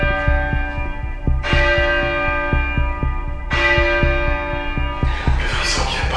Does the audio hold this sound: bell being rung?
yes